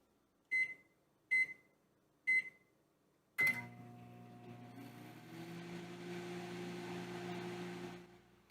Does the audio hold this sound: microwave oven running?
yes